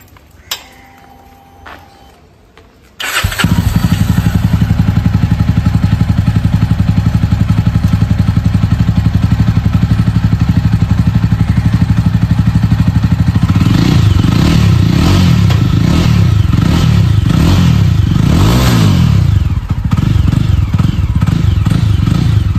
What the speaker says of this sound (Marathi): तर आता इंजिन स्टार्ट करूया आणि एक्झॉस्ट नोट ऐकूया